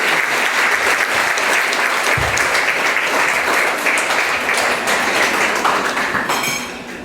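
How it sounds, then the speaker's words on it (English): Loud, continuous applause from a breakfast-event audience honoring local champions, many hands clapping evenly before fading slightly at the close, with a brief low thump early on. "I want to ask you to just give yourselves a round of applause"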